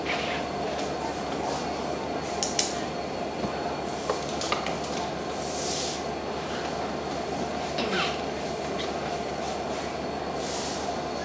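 A train's heavy, continuous rumble fills a railway setting, with occasional metallic clanks and faint squeals rising above it and voices murmuring underneath.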